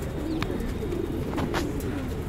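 Pigeons, high-flyer breeds, coo softly and repeatedly in a low, throaty murmur, with a few faint chirps from other birds nearby and no talking.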